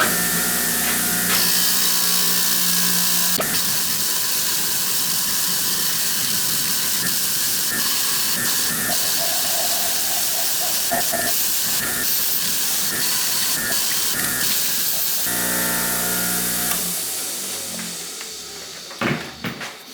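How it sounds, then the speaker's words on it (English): A brass-coated wire wheel on a bench grinder scours an antique nail puller handle, giving a loud, steady hissing scrape with a whining motor underneath. The scrubbing shifts as the workpiece moves, then drops away as the grinder spins down. "put a new wire wheel on that side of the grinder"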